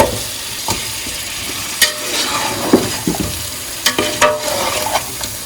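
Small bone pieces for nalli biryani frying and being stirred in a pot, with scraping stir strokes and sharp clinks over a steady sizzle, close by and moderately loud, no voices.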